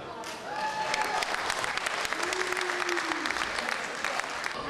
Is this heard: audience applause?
yes